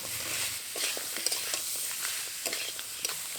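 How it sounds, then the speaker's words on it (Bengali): Sizzling and stirring as fried crabs, Sundarbans crab, are stir-fried in spice paste in a pan, a soft continuous hiss with light scraping strokes, moderately quiet and without speech. "আবারও মশলার সাথে কাঁকড়াগুলো দেওয়ার পর ভালো করে কষিয়ে নেব।"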